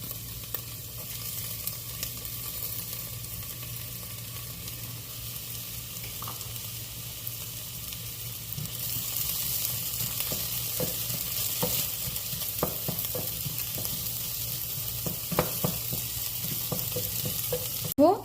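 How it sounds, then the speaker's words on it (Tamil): Onions sautéing with whole spices in a pan, a steady soft sizzle under a low hum, with stirring scrapes and clinks growing more frequent toward the end. "இப்போது இந்த ஹோல் ஸ்பைசஸோட வெங்காயம் நல்லா வதங்கிடுச்சு."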